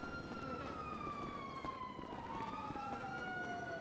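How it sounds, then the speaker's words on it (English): Police sirens wailing in a video game, a descending siren tone heard at a distance over a steady wash of traffic and engine noise, faint overall and continuous. "You hear those sirens?"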